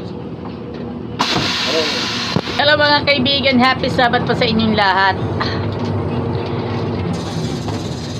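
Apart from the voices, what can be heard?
LLI Bus ride to Dalahican, engine and rattling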